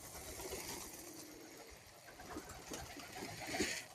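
Pigeons coo softly while being fed, faint low murmuring calls rising and falling over a quiet background.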